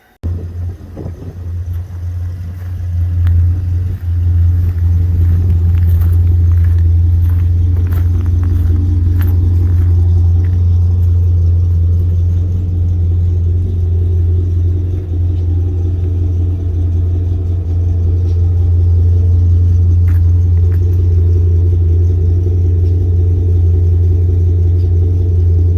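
A 2008 Pontiac G8 GT V8 with headers and a Solo exhaust runs on a dyno, a loud, close, steady low rumble that builds slightly as the revs climb and then holds.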